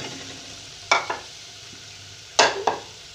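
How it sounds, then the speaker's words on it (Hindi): Potatoes go into a pan of frying masala, and two pairs of sharp scraping stirs cut through a low, steady sizzle close by. "अब मैं इसमें डाल रही हूँ आलू।"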